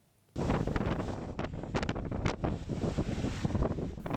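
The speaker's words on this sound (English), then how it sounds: "Big waves crashed against the shore at Taiwanshan in Hong Kong this morning as Typhoon Chaba was near its closest to the city." Big typhoon waves crash against the shore at Taiwanshan, Hong Kong, during Typhoon Chaba, with strong wind buffeting the microphone. The roar is loud and continuous and breaks in repeated surges.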